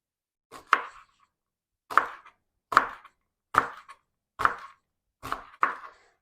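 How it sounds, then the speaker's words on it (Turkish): A knife chops green onions sharply on a board, six separate strikes at a steady, unhurried pace, each a quick double tap, close and clear with silence between. "Dört adet yeşil soğanımızı ince ince küçük küçük doğramaya başlıyoruz."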